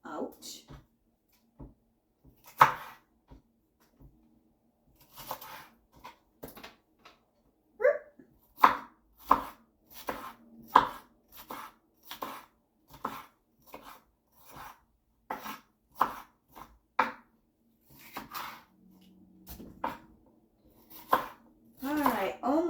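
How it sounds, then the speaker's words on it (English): A kitchen knife slices through a bell pepper on a cutting board, producing irregular crisp chops and short scraping cuts close to the microphone, with pauses between bursts. "there's that half of the pepper, and I will cut this part of it out"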